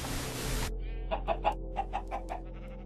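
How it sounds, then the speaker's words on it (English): Chickens cluck in a Minecraft video game farm, a series of short, separate clucks after a brief burst of noise at the start. "Here's my farm. So I've got chickens, pigs, sheep and cows in there."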